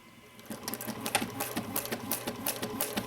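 A sewing machine stitches a mini box tote bag, running slowly in a close, rapid mechanical patter of needle strokes that speeds up after a brief quieter start, with no voices over it.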